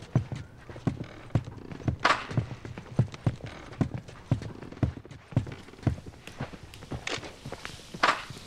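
Horse hooves clip-clopping in the video game The Last of Us Part II, a steady, evenly paced series of close hoof thuds on hard ground with occasional sharper clatters, heard alone without speech.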